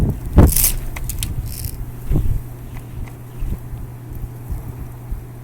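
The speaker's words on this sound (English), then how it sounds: "The wind's blowing really good." Strong wind blows down a residential street during the 2013 blizzard with heavy snow falling. Gusts buffet the microphone in a few rough bursts over a steady low roar.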